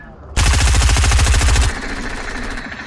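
Automatic gunfire in the video game Fortnite, a loud, close, rapid burst of shots lasting about a second and a half, followed by a lingering tail, with no talk over it.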